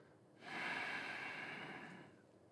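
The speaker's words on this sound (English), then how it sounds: "Exhale out through the nose" A slow, steady exhale through the nose during a guided belly-breathing exercise, a soft airy rush that swells and then tapers over about a second and a half, close and alone.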